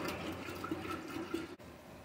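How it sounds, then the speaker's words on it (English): Cold tap water runs steadily into a container for homemade lemonade, a soft, continuous rushing fill heard close but fairly quiet, with no talking. "You're going to take your cold water and fill it on up."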